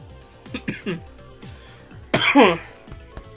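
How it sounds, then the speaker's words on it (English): A couple of short, harsh coughs burst out close by, between stretches of someone speaking. "I have a bit of a cough."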